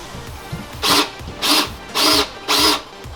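A power drill with a 1 3/8 inch bit bores through wood in four loud, close bursts about half a second apart, with quieter motor whirring between them.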